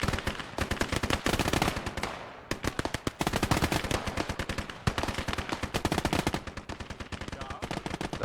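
Dense, continuous automatic gunfire from infantry in the WWII strategy game Gates of Hell: Ostfront, with rapid overlapping bursts of machine-gun rattle and rifle shots, loud and sustained throughout, with no voices.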